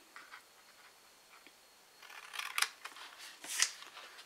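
Scissors cutting paper squares at a table: faint snips early, then two clusters of crisp, louder cutting snaps near the end, quiet and close with no speech.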